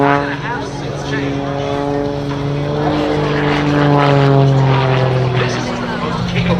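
A GB1 GameBird aerobatic propeller airplane hanging on its prop in a vertical climb at an air show, its engine droning loud and steady with a rising, wavering pitch while an announcer talks over it.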